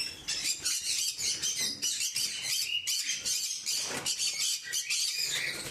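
Yellow-sided conures calling in an aviary, a dense, continuous chorus of shrill chirps and squawks at close range with no talking.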